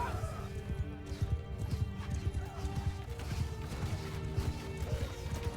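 Many horses gallop in a continuous clatter of hooves with occasional neighs, as horse archers circle a large body of enemies in a battle video game, amid a busy din of combat noise.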